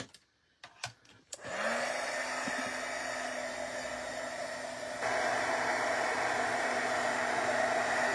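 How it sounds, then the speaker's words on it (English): A craft heat tool switches on after a few light taps and blows hot air onto a paper card, making a steady close whirring hiss with a faint tone that holds to the end. "Now I will need to hit this with my heat tool"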